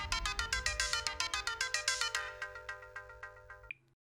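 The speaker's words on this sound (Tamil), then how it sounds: "வெள்ளச்சாமி, டியூட்டி நேரத்துல ஃபோன் பண்ணிருக்க?" A phone ringtone plays alone in a quiet room, a rapid repeating electronic melody of bright pulsed tones that rings for about three and a half seconds before cutting off abruptly.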